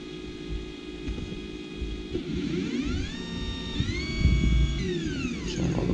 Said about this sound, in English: So now the machine is moving.